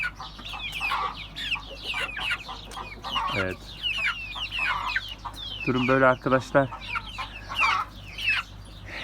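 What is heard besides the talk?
chicks clucking, Turken, Ameraucana and village chicks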